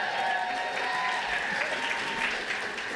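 A conference audience applauds the audio director of the game Tunic, a dense, sustained burst of many people clapping that fills the room evenly for a few seconds, with faint crowd murmur underneath.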